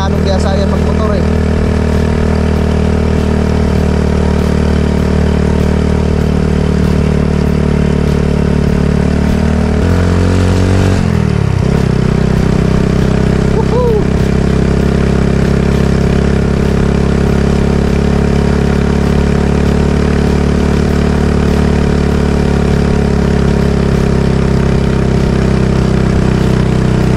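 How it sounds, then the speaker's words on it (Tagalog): A motorcycle engine runs steadily throughout a ride on a road in Corcuera, with a brief dip in the engine note partway through and people talking over the constant hum. "Kasi si Junjun hindi pa gaano biyasa yan magmotor eh."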